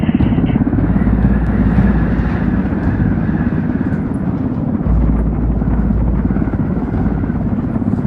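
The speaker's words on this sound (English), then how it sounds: "Frontier Tower, helicopter 4-5 Romeo Whiskey." Helicopter in Ghost Recon Wildlands, a loud continuous rotor and engine drone with a rapid throbbing pulse, steady and close throughout.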